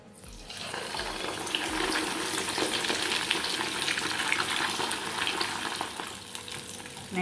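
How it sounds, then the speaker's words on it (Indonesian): Floured snapper fish sizzles in hot frying oil, a steady loud crackle and hiss that begins abruptly and continues throughout without talk. "Nah sekarang kita goreng ya. Kita goreng ikannya ya."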